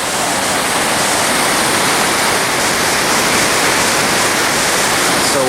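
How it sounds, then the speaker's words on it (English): Canyon Creek's waterfall in winter roars as a steady, dense wash of rushing water, loud and close, unbroken from start to finish with no voices. "so there's the falls"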